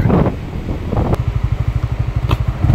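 A Honda Winner X motorcycle on the move, its engine throbbing in a steady rapid pulse under wind rush, with a couple of sharp clicks that could be gear shifts.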